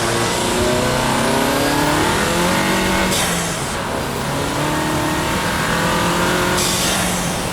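A turbocharged car pulling hard after a downshift, its engine note climbing steadily and loudly from inside the cabin, with two brief gear-change dips along the way.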